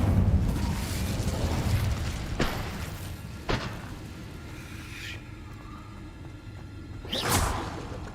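An Incendio fire spell cast in Hogwarts Legacy gives a few sharp whooshing bursts and fiery pops spread over several seconds, with a final louder flaring rush near the end.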